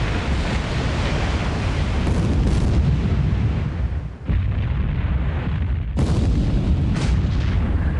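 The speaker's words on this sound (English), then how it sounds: "Bit of overkill using battleships to take these guys out." Heavy battleship guns in a naval war video game boom in rolling, overlapping salvos, loud and dense with long rumbling tails and one brief lull in the middle, continuing without any speech.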